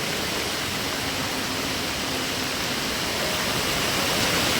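After torrential Konkan rain, an overflowing village river pours forcefully beneath a bridge, producing a continuous broadband rush like a waterfall, steady and moderately loud, swelling a little near the end without any talk.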